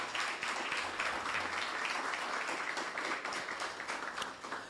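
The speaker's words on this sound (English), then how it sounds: "Give the director another round of applause." At a student internship programme closing ceremony, an audience applauds the director with a dense, continuous spatter of clapping that stays fairly steady before easing slightly toward the end.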